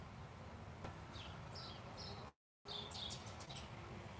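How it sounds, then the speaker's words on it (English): Small birds chirp in short scattered bursts outside near a balcony somewhere in Europe, with steady background ambience and a brief dropout midway. "you hear the sound? The birds? The birds are legit around here"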